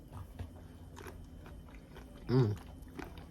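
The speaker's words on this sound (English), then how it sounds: "The pickles are crunchy." A single crunchy bite into a homemade burger sandwich with crisp pickles and melted cheese, one brief, fairly close crunch against a quiet background.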